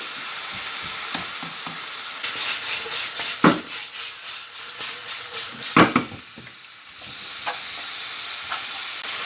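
Chicken pieces for butter chicken sizzle and hiss steadily in a hot pan, with bursts of scraping as they are spread and stirred, loud and close.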